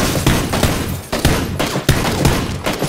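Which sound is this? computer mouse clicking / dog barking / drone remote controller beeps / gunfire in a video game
gunfire in a video game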